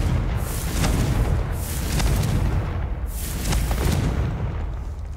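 A Confringo fire spell blasts repeatedly in the Hogwarts Legacy video game, with roaring, booming bursts coming roughly every second and a half over continuous loud rumble.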